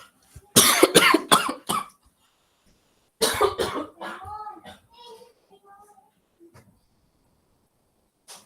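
A person with an irritated, sore throat coughs several times in quick succession near the microphone, then pauses before a voice speaks briefly with some softer throat sounds.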